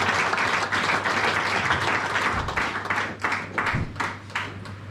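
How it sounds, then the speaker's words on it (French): Church congregation applauding and cheering in a dense, continuous wash of clapping at close range, with scattered louder claps and voices mixed in. "On acclame pour le roi des rois."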